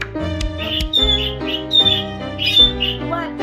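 A pet parrot screeches loudly and repeatedly at close range, a series of harsh, piercing squawks with no talking.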